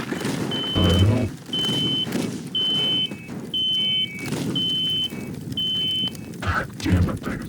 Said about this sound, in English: The fuck is that beeping?